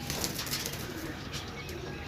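Pigeons kept for sale coo and flap their wings in a dense, close, continuous chorus of soft throaty calls and fluttering.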